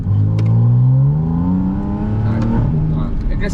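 A Porsche 911 Turbo S launches hard from a standstill, its engine note climbing steadily through rising revs with a brief shift dip partway, loud and close inside the cabin.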